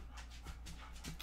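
A dog panting close by in quick, rhythmic breaths, with no talking.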